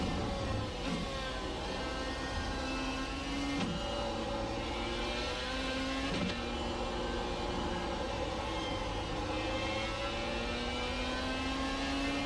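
Dallara iR-01 race car engine in the iRacing sim, revving continuously on warm-up laps with rising and falling pitch sweeps and sharp gear changes, loud and constant throughout.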